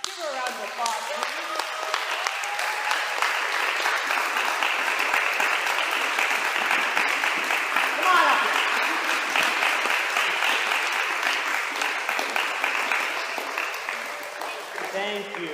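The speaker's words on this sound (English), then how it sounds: "Give her a round of applause." Steady, sustained audience applause fills a theatre after a stage production of Pinocchio, dense clapping from a large crowd holding for about fifteen seconds before it begins to thin.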